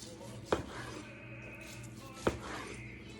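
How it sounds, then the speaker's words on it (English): Two sharp knife strokes cut through a bone-in ribeye steak on a board, spaced apart, over a low background murmur. "So I'm just gonna slice from the bottom up here."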